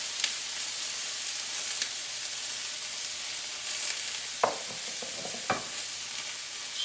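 Chopped garlic frying in oil in a home kitchen while roast chicken dinner is prepared, a soft steady sizzle with a few sharp stirring clinks and scrapes, fairly quiet.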